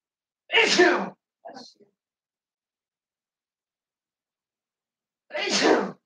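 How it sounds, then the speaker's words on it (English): Two loud, sharp sneezes a few seconds apart, with a brief faint breathy sound after the first and silence in between. "I can never sneeze once."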